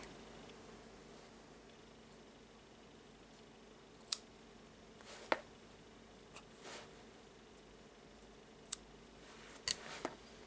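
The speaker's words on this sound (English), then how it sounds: "Now I will take the scissors and cut" Scissors snip crochet thread for a small crocheted earring flower, a few sharp isolated clicks spaced apart over a quiet, faint background.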